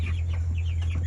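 Month-old broiler chickens in a poultry flock give soft, repeated clucks and chirps over a steady low mechanical hum, with no talking.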